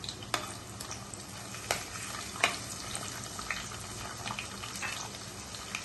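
Oil sizzles steadily with spices in a pan, with scattered sharp pops and crackles over a low, even hiss.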